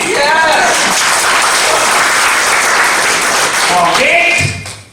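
An audience at a Safeshop business seminar in Odisha claps for itself, sustained, loud applause filling the hall, with a voice speaking over it at the start and near the end before it fades out.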